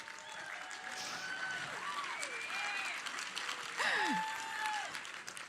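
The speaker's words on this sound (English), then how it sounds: "I like it when you guys applaud." Audience applause in a convention main theater show at PAX East, a steady broadband clatter of many hands sustained throughout, with whoops and shouts rising above it.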